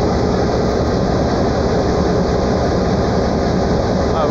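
A train stopped at a level crossing, producing a loud, unbroken engine rumble and hum that stays constant from start to finish.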